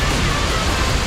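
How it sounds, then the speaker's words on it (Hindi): Flowing water from a waterfall near Bhavali Dam: a dense, loud, steady rush of broadband noise with no breaks, close by. "आप पानी का बहाव सुन सकते हो और वाटरफॉल तो बस देखते ही बनता है।"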